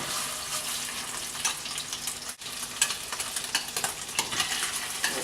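Scallops sear in hot olive oil in a pan, giving a loud, dense, continuous sizzle with frequent crackles and pops and one brief dip midway.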